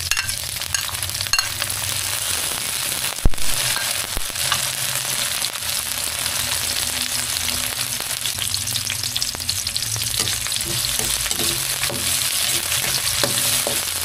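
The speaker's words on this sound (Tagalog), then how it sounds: "halu-haluin ng bahagya para maluto ang sibuyas at bawang. Ilagay ang kamatis." Onion, garlic and tomato sizzle loudly and steadily in a hot pan, close up, with occasional stirring scrapes and one sharp clink of a utensil against the pan; no one speaks.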